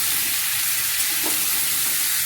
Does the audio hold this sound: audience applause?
no